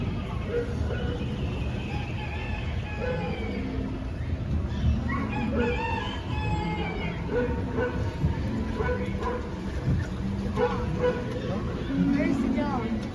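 A rooster crows several times on a farm, mid-distance, with chickens clucking amid a busy mix of voices and chatter.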